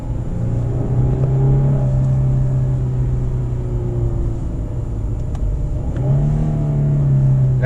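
A 2019 Lexus RC300 AWD engine revs under acceleration in manual mode, a loud steady drone heard from inside the car that rises, eases off, then climbs again toward the end.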